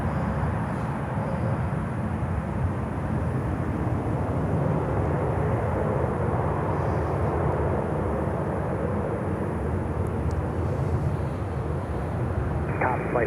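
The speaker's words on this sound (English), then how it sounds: "747. It's just the sound of this thing." Boeing 747 jet engines at Miami airport, a continuous deep rumbling roar holding steady at a moderate distance, with no distinct voices over it.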